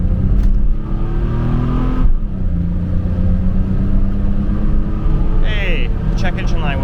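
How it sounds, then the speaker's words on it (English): A 1986 Pontiac Fiero GT engine roars at full throttle from inside the car, a loud steady drone that climbs in pitch with a brief dip at a gear change, while people talk over it. "let's floor it one more time."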